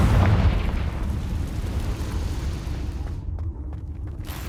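The Confringo fire spell exploding in Hogwarts Legacy, a heavy booming burst with a rumbling, roaring tail that slowly thins out, no voices.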